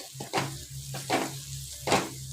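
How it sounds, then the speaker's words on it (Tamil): Masala being stirred as it fries in oil in a pan for a green gram gravy, giving a steady close sizzle with three louder scraping surges of the spoon about every 0.8 seconds. "நல்லா ஒரு 2 நிமிஷம் நல்லா கிளறிக்கலாம்."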